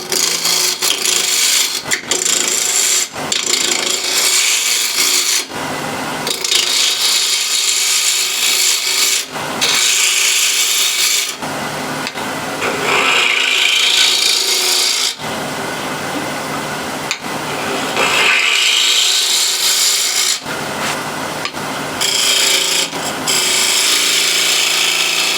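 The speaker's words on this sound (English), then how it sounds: "Same procedure, spindle gouge." Spindle gouge cutting offcut wood spinning on a lathe, a loud continuous scraping and rubbing that comes in several long passes separated by brief pauses, with no talking.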